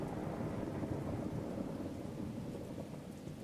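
Steady rain and low rumbling thunder in a train shunting video game, a continuous wash of sound without speech.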